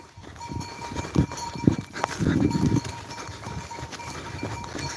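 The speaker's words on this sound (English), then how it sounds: "Running after sheep." A flock of sheep runs across a mountainside while someone chases them on foot, with scattered hoof clatter, footsteps and a few bleats over a busy outdoor background.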